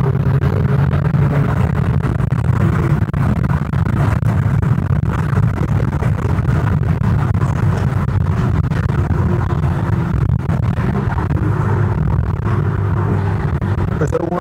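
Alfa Romeo Giulietta Veloce on a road test, its engine droning steadily from inside the cabin for a long stretch, with quick gear changes and someone talking over it.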